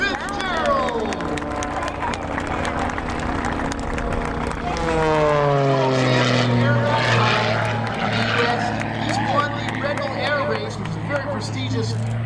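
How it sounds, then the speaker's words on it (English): An aerobatic propeller plane, an Edge 540 or Extra 300 type, roars and drones at an airshow, its engine pitch sweeping up and down through a manoeuvre, loud and continuous over an announcer's voice. "Prestigious racing circuit of Edge 540 aircraft or Extra 300 aircraft, the top aircraft in aerobatic piloting."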